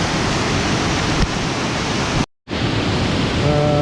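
A swollen river rushes during rain, a loud, dense, unbroken roar of water close by that briefly drops out before resuming.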